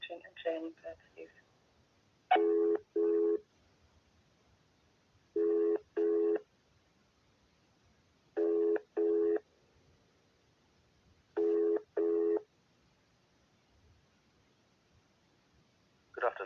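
A telephone ringback tone sounds while a caller waits on hold for a mental health service line. Paired rings repeat at steady intervals of about three seconds, clear and moderately loud, with faint background hiss between the rings.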